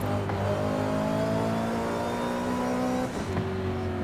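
Porsche 918 Spyder hybrid supercar in Forza Horizon, its engine holding a steady high-revving drone with a brief dip and shift near the end, continuous and close with no talk.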